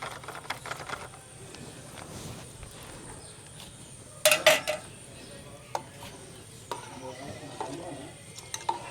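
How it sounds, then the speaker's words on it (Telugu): A spoon stirs custard powder into milk in a metal vessel, with scattered light scrapes and clinks, one louder clatter partway through, and occasional soft talk nearby. "మనం కలిపి పెట్టుకున్న కస్టర్డ్ పౌడర్ అయితే మళ్ళీ ఒకసారి ఇట్లా బాగా పాలల్లో కలిసేటట్టు మిక్స్ చేసుకుంటున్నాం"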